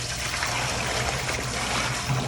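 Water poured onto the front of a fryer vat during cleaning, a steady continuous splashing trickle lasting throughout, close by with no talk.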